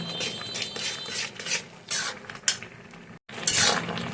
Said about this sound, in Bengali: ডাবু হাতার সাহায্যে ডালটাকে ম্যাশ করে নিয়েছি মানে ঘুটে নিয়েছি